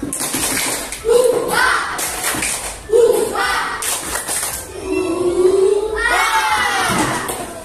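A class of sixth-grade schoolchildren does a rhythmic spirit clap, with bursts of loud shouting and chanting voices rising in several waves over patterned clapping.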